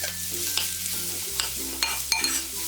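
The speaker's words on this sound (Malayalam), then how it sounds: "ഈ ചെറുതായിട്ട് അരിഞ്ഞു വെച്ചിരിക്കുന്ന സവാള ഇട്ട് വഴറ്റി കൊടുക്കാം" Finely chopped onion sautés in a pan with cloves, cardamom and cinnamon for paneer shahi korma, a steady hiss with a few light spatula scrapes and taps, close and moderately loud.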